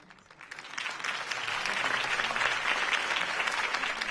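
Crowd applause follows a political campaign speech in the Batman Telltale video game, swelling from a quiet start into a sustained, dense clapping that holds steady and full to the end.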